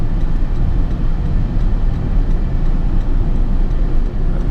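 A 2017 Toyota Prius Prime plug-in hybrid accelerating on a road, heard as a steady, fairly loud broadband rumble of road and tire noise with no distinct engine note and no talking.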